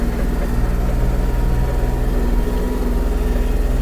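A Kubota GL-29 mini tractor's engine runs close by with a steady, heavy low rumble, holding a constant pitch and level without pauses.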